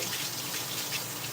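Kitchen tap running steadily as a whisk is rinsed in a tiny NYC kitchen, a continuous soft splashing wash of water with no talk.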